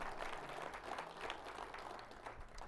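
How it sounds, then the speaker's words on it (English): An audience at a city presentation applauds with a steady, fairly faint wash of clapping that holds evenly for a few seconds. "Feel free to applaud that."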